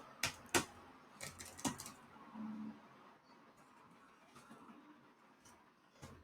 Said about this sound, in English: I'm going to type in the following letters